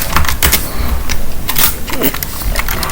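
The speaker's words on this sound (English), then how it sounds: "Click enter, type in your password" A password is typed on a computer keyboard, with a quick, close series of light key clicks and taps over a faint background hum.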